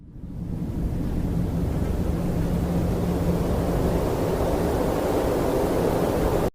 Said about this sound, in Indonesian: Angin sesaat bertiup kencang